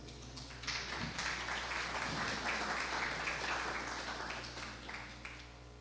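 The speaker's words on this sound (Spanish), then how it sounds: "Recibámoslo con un fuerte aplauso." Seminar audience giving applause to welcome a speaker, a moderate, even patter of clapping from a room of listeners over a steady low hum, tapering off at the end.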